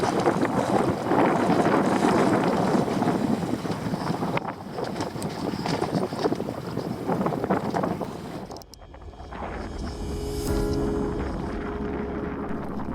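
A single-handed sailboat on Lake Keitele in Finland at nightfall, with heavy wind buffeting the microphone and water rushing along the hull, the gusts easing partway through to a calmer wash.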